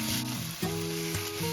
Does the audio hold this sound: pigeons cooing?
no